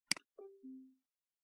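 A short VKontakte new-message alert: a quick click followed by a brief two-tone falling chime, clean and isolated against silence.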